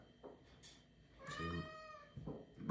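A cat meows indoors, a couple of drawn-out, rising-and-falling calls, fairly close but soft, with brief quieter sounds between them and no talking.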